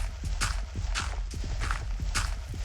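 Horse hooves clip-clop at a steady walking pace in a Minecraft-style video game, regular paired thuds repeating evenly and fairly close throughout.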